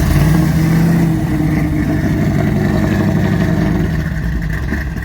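A Chevrolet Nova hot rod on a road tour in Florida, its V8 engine running loud and close with a steady, throaty rumble and slight revving throughout.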